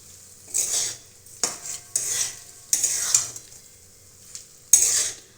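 Potatoes, carrots and spices sautéed in a pan, with bursts of spatula stirring and scraping against the metal, some sharp clanks, soft sizzling between strokes and no talking.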